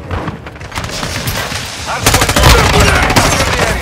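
Gunfire in Call of Duty on the Shipment map in Hardpoint mode: continuous rapid automatic fire, loud and dense, growing heavier halfway through, with chaotic game noise around it.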